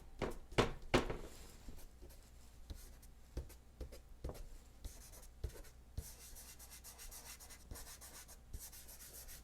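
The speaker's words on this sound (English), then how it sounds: "Here I'm drawing with the piece of charcoal perpendicular on the paper." Charcoal stick held perpendicular and dragged across paper, giving dry scratchy rubbing strokes and light taps in an irregular rhythm, close and quiet, with no talking.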